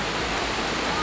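Waterfall at a wooded campsite, a dense, steady rushing roar of falling water, close and continuous, with no other distinct sounds over it.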